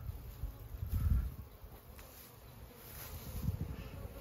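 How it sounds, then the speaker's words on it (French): Asian hornets buzz and drone around beehives at an apiary, a low hum that swells and fades as they fly close, with faint background noise. "Les premiers frelons asiatiques."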